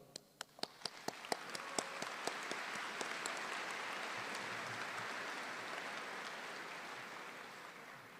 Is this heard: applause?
yes